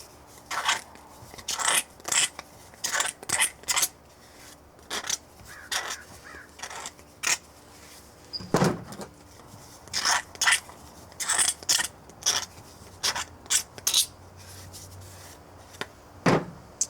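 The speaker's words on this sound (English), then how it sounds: "I'll usually come through with a knife and just deburr these edges real quick" A knife scrapes and shaves burrs off cut pipe edges for a patio pond with bog filter, a series of short, close, rhythmic scraping strokes in quick bursts, no talking.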